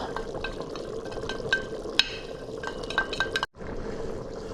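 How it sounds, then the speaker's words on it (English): A spoon stirs turmeric, masala and chili powder in a hot pot, giving soft scraping and sizzling with a few bright clinks against the metal, then a brief pause before the stirring resumes. "Give this a good stir"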